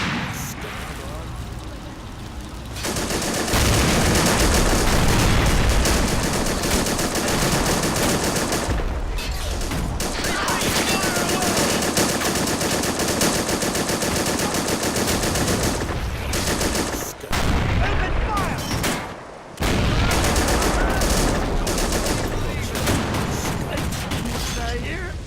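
Machine guns and rifles fire in dense, continuous bursts with heavy booms from a tank battle in Men of War Assault Squad 2. The din is loud and nearly unbroken, with brief lulls, and someone talks over it.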